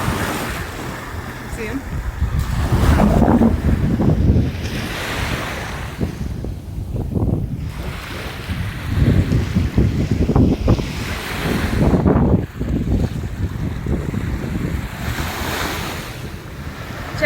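Surf rolls in at a Florida Gulf Coast state park beach as the tide comes in, steady breaking waves with wind buffeting the microphone, and a brief spoken remark over the wash.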